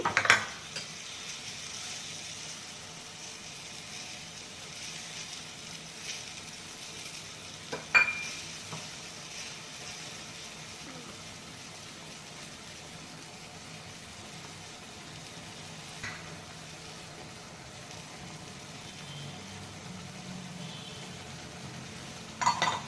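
Brinjal palya sizzles in a pan as it is stirred with tamarind juice, chili powder, salt, coriander powder and cumin powder: a soft, steady frying hiss with a few light utensil clinks and no talking.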